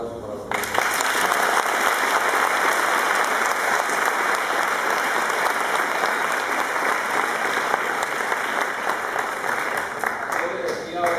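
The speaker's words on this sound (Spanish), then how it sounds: "Yo pido un aplauso para los demás" A forum audience on trade agreements and medicines breaks into dense, sustained applause, many hands clapping loudly and evenly for about ten seconds with faint voices mixed in.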